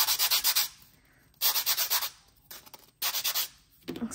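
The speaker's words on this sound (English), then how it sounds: "when you're filing and buffing, you want to make sure you're not doing it too much on one side or one area" Dip powder nails being filed and buffed: close, rhythmic bursts of rapid scratchy strokes, four or five quick passes per burst, separated by short pauses, with no talking.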